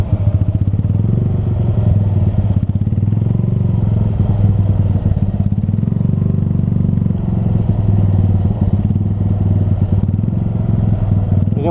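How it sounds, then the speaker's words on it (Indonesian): A motorcycle that has sat unused for a long time idles at a red light, its engine thrumming steadily and close with a rough, uneven rumble the whole time, with little sign of distinct revs. "Ini motor kalau udah lama nggak dihidupin harus dimainin terus gasnya, kalau nggak mati."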